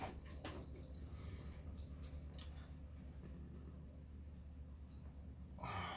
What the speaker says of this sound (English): our roommate's dog is like a beagle mix that he does not like